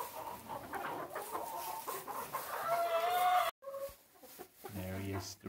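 Chickens cluck in a homestead coop at St. Isidore Farms, and a rooster named Jack adds short squawks nearby, in a brief, fairly close burst of fowl calls with a quick break midway.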